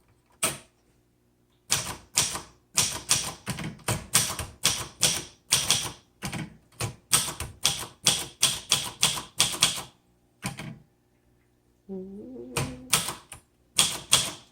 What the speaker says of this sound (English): There we go. And let's start typing.